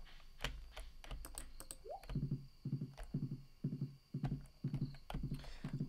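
A horse in the farming game Stardew Valley gives a short rising whinny, then its hooves clip-clop in a steady, even rhythm of about two steps per second, with soft clicks before it.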